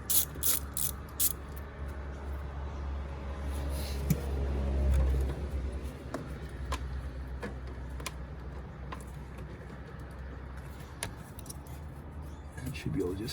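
Hose clamp being loosened and taken off the intake pipe of a Porsche Boxster 986/987, giving close metallic ratcheting clicks and tool rattles with a brief low rumble, under a voice talking.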